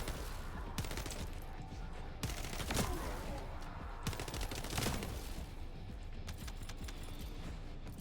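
Rapid spammed Thunder Cage weapon fire from a looter-shooter game crackles in dense bursts of sharp electric zaps, with a couple of brief pauses between volleys, loud and close throughout.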